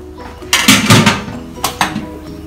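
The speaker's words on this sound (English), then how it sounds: "Put the lid on, let it boil." A metal lid is set onto a pot of boiling stock, giving a couple of clanks up close, then two lighter knocks a moment later as it settles.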